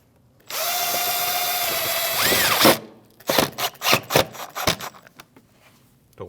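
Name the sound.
power drill driving a Phillips screw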